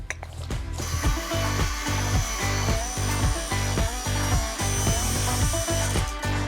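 A power saw cuts freehand through a furniture panel, a loud close grinding buzz with rhythmic pulsing as the blade works along, running nearly the whole time without speech.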